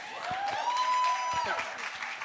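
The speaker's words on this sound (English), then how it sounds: "Can I have a round of applause for Katie Porter" Applause for Katie Porter at the 2022 MAKERS Conference fills a short stretch, with a sustained high whoop or whistle rising above the clapping at moderate loudness.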